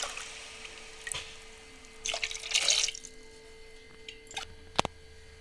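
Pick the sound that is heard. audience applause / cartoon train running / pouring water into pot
pouring water into pot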